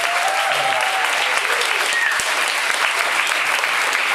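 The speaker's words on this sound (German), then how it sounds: "Nochmal Applaus für den Marc." Loud, dense applause from the audience for a performer at an acoustic slam, sustained clapping with scattered whoops throughout.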